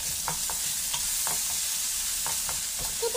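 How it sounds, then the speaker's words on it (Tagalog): Pork crisps in a pan, giving a constant close sizzle. Short, irregular scrapes and clacks from stirring in the pan cut across the hiss. "Hayaan na po natin mag-crispy yung ating pork."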